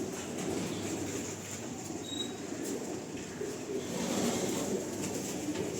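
Pigeons cooing in a loft, soft low coos repeating over a steady hum of background noise, fairly faint and with no talk.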